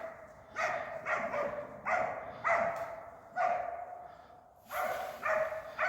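West Siberian Laika dogs bark while working a herd of wild boars in the field, loud repeated bursts of barking coming in quick clusters, with brief pauses between volleys.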